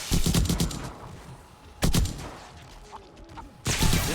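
Gunshots from a weapon in 7 Days to Die with the Undead Legacy mod: three loud bursts of rapid fire, one at the start, one near the middle and one at the end, with quieter game noise between them.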